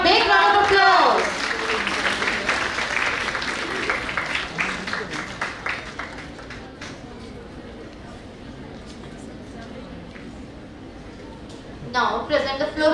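A crowd at an India-Japan college festival applauds a visiting Japanese professor, a dense clapping wash that fades over several seconds while a voice speaks over it and a fresh burst returns at the end.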